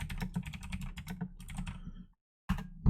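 Rapid clatter of keys on a computer keyboard as a file name is typed, a steady run of close, crisp clicks that stops briefly before a final burst of keystrokes.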